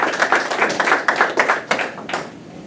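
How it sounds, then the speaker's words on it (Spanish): Audience applause at a health sector union meeting, welcoming a speaker to the front: a smaller group clapping in quick bursts, fairly close, that thins out and fades toward the end. "Vamos a recibir con fuertes aplausos al compañero César Pasalacqua Pereira."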